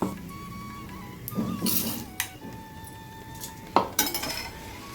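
Roasted urad dal is tipped from a pan into a mixie jar, giving a few scattered metallic clinks and rattling scrapes over a quiet kitchen background.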